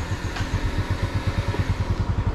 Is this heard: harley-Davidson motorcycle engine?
yes